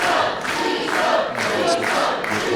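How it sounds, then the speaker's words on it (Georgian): Fans shouting and cheering at a GAMA grappling super match, Razmadze versus Vekua, a loud, sustained crowd roar with surging yells rising and falling throughout. "გულშემატკივრის შეძახილება"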